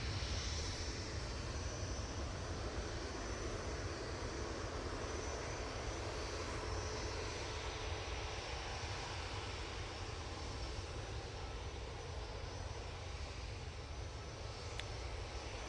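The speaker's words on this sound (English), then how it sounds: "EasyJet A320-200 now getting ready to go to Etihad, coming on via Victor Bravo" Jet engines of an EasyJet Airbus A320-200 taxiing at Manchester Airport, a steady faint hum and hiss held at an even distance throughout with no clear rise or fall.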